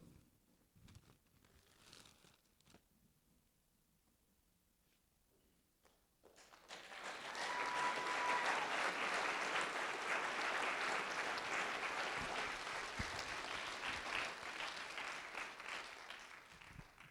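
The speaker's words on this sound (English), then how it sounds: "You didn't have to clap." A church hall audience breaks into sustained applause after a quiet stretch, many hands clapping in a dense, even wash that holds steady to the end at a speaker's presentation.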